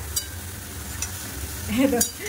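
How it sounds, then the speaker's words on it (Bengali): Panch phoron spices frying with dried chili and bay leaf, a quiet sizzle in oil with a couple of light metallic taps, close, ending with a short vocal sound. "পাঁচমিশালি মশলা ভেজে শুকনো লঙ্কা আর তেজপাতা দিয়ে এর ভেতরে দিয়ে দিলাম"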